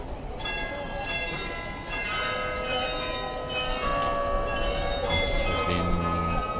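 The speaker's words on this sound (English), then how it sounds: "This whole bell routine is called Glockenspiel." Glockenspiel bell routine ringing out over St. Mary's Square in Munich, steady tonal chimes sustained above a dense, bustling outdoor crowd murmur throughout.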